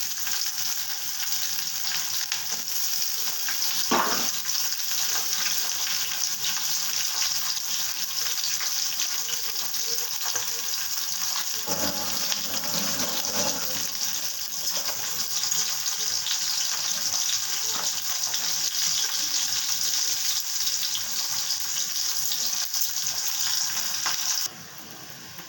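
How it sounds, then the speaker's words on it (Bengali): Chopped onion frying in a pan, a dense continuous sizzle heard close and loud throughout, with a couple of brief stirring knocks, cutting off near the end. "এবার দিয়ে দিলাম পেঁয়াজ কুচি"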